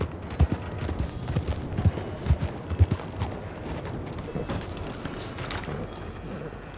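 Horse hooves clip-clopping in the Red Dead–based game WildRP, a run of fairly close, uneven hoof thuds in the first few seconds that fade into a softer rumbling background.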